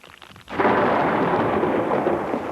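A single construction blasting detonation erupts after a brief quiet moment, a loud deep boom that rolls on as a sustained rumble for the rest of the clip.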